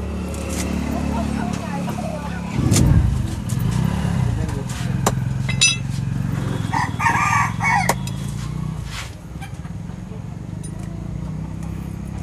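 Desi and broiler chickens at a chicken cutting centre in Kalahandi: a rooster crows and hens cluck amid a busy roadside background of passing motorcycle and vehicle noise, with people talking throughout.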